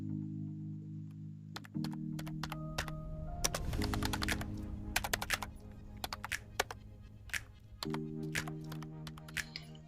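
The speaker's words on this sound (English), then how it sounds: "Type in on your search bar." Fingers tap out a search on a phone's on-screen keyboard, a quick run of soft, close clicks and taps over steady background music.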